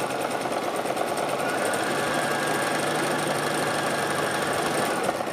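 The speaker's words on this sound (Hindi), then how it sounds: "अब मैं आपको दिखाती हूँ ये सिलाई करके।" A Singer 1306 sewing machine stitches cloth with a steady, fast mechanical whir and needle chatter that runs continuously at an even level.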